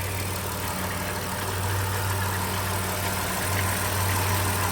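A 2010 Dodge Grand Caravan with the 3.3 engine and a charging-system problem, idling with a steady, even hum that holds constant throughout at close range.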